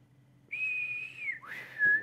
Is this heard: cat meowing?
no